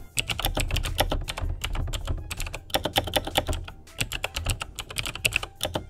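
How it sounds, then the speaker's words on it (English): Clicky switches on a Razer BlackWidow mechanical keyboard give off rapid, loud, crisp clacks in dense bursts with brief pauses, heard up close with no talking. "I'll now show you the clicky switches on a Razer Black Widow keyboard."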